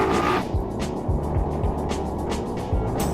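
A Raider motorcycle on the road, revving and racing past with several loud engine surges and passes, fairly near, with continuous rushing road noise throughout.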